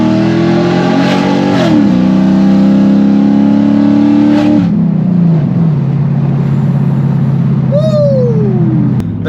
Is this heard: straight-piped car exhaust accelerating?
yes